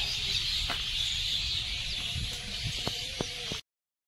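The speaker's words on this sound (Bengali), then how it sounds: "অসংখ্য পাখি, তারা সব ঘরে ফিরেছে, কিচির মিচির আওয়াজে মুখরিত।" Birds returning to roost at dusk in Sundarbans mangrove forest among baen trees keep up a dense, steady chirping chorus from a distance, with a few faint knocks and no voices.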